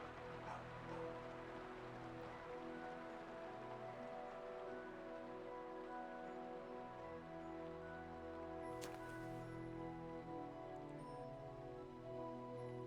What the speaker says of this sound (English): Well, the rain sounds really good.